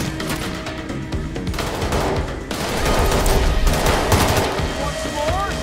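Bursts of rapid automatic gunfire and scattered shots from a Payday 3 bank-heist shootout fill the mix, loud and dense, with short gaps between volleys.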